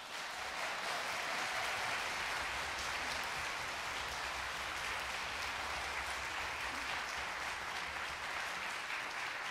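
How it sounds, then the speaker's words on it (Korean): Concert audience at a chamber orchestra performance by visually impaired musicians gives steady, even applause, a continuous wash of many hands clapping at a distance with no voices over it. "일어나서 인사 좀 해주세요. 박수 주세요."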